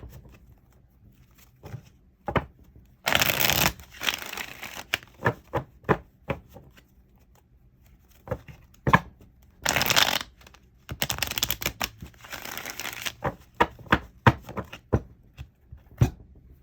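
A deck of tarot cards shuffled and cut at close range: two long riffling bursts with a third near the end, each set among many sharp taps and slaps of cards being squared and cut, and no voice.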